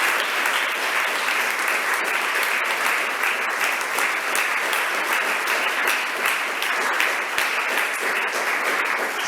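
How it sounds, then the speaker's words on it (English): An audience at the close of a 2021 young researchers' symposium breaks into sustained, even applause that holds steady for about nine seconds, dense and close with no voices over it. "I suggest one more huge applause for everybody"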